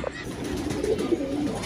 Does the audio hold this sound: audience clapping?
no